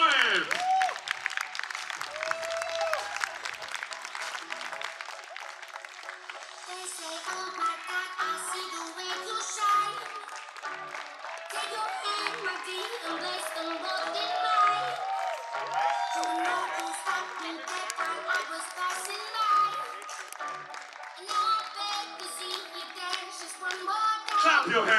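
Wedding reception audience applauding the newlyweds, a sustained dense round of clapping with some cheering under an announcer's voice over the crowd.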